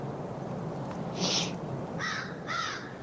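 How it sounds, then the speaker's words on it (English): Crows caw in a film soundtrack, a single harsh call followed by two more in quick succession, fairly faint over a low background hum. "Now suddenly we can hear crows?"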